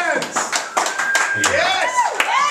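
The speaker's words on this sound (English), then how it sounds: "Clap your hands!" Audience at a Lizard Lounge club gig clapping along in a steady rhythm, the claps close and clear, mixed with a singing voice and musical tones.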